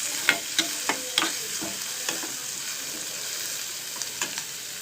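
Amaranth leaves (totakura) sizzle steadily in a hot pan, with a series of sharp scraping clacks as a spatula stirs them, close and moderately loud, alone without talk.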